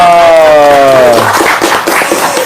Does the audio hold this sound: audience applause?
yes